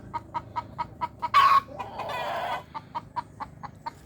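Gamefowl hen from a breeding flock clucking in a steady series of short, evenly spaced calls, interrupted midway by a brief louder squawk and a burst of rustling or flapping, then resuming the same rhythmic clucks.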